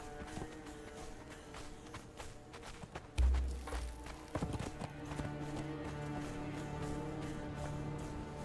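Horse hooves clip-clopping in the game Conan Exiles, a quiet, steady walking rhythm of hoof strikes with a brief louder thump partway through, heard alone without talk.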